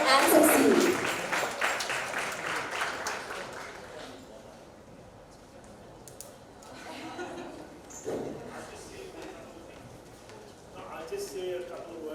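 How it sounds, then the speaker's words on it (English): Audience clapping for award winners at a showcase event, a burst of applause at the start that fades over a few seconds, followed by quieter room sound and scattered voices. "Let's give them a big round of applause"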